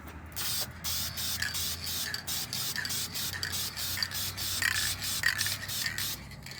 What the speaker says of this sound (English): I'm getting ready to spray the 3rd coat on here